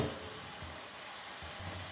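Vegetables cook in their own juices in a pan, giving a faint, even sizzle with soft stirring thumps underneath.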